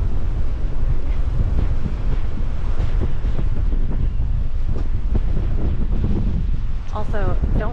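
Strong wind roars and buffets the microphone steadily on a cruise ship deck off Martinique near Mt Pelée, with wave wash underneath and a brief faint voice near the end.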